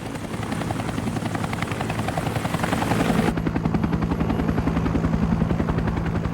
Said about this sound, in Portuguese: o helicóptero, que foi capaz de operar no meio de intensa batalha, será uma arma importante na execução dessa estratégia